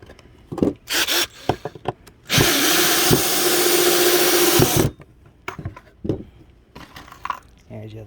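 Power driver sinking screws into a cheap DIY wooden bird house, one sustained whirring burst of about two and a half seconds, close and loud, between short knocks and handling clatter.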